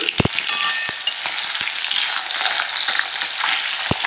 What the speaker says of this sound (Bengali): মাছগুলো একটু ভেজে নিতে হবে